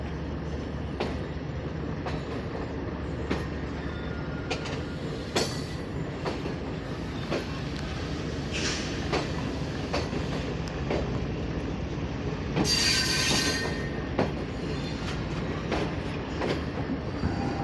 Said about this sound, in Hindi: 41 अप कराक्रम एक्सप्रेस रवाना हो रही है चक झुमरा जंक्शन रेलवे स्टेशन से